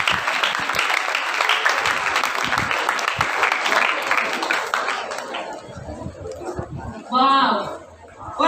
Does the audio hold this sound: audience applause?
yes